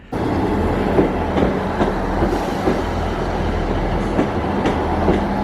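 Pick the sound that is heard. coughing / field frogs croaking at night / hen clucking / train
train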